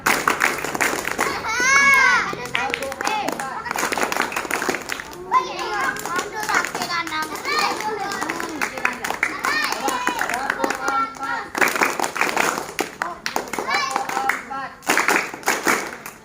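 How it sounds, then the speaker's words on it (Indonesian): A group of children clap their hands in a counting game, sharp claps in quick rhythmic bursts alternating with excited chanting voices, close and lively throughout. "Tepuk satu. Tepuk dua. Tepuk dua. Tepuk tiga."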